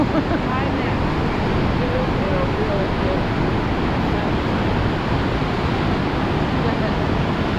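Steady rushing roar of whitewater along the Niagara River gorge at the White Water Walk, loud and continuous broadband noise with no break, close by and filling the whole scene.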